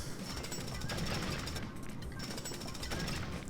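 A jackhammer pounds in the video game LEGO City Undercover, a continuous fast rattling hammer at moderate level with brief gaps near the middle and end.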